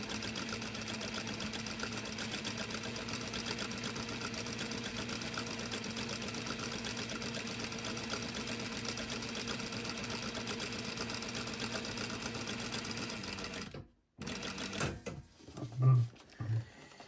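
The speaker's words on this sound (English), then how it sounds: "we're just going to do a line of basting stitch all the way across that" A sewing machine runs a long basting stitch across fabric in one steady mechanical whir for about fourteen seconds, then stops abruptly, followed by a few faint handling bumps.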